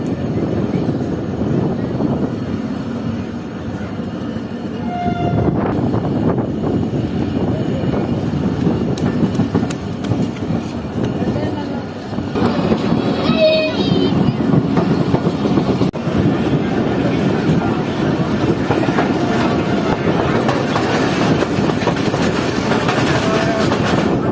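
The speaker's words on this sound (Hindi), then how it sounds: "6:15 बजे ट्रेन जो है निकल रही है टंडो जाम रेलवे स्टेशन से" Shah Latif Express train pulling out of Tando Jam railway station, a steady loud rumble of wheels and carriages with faint clicking of rail joints, continuous throughout and without clear speech.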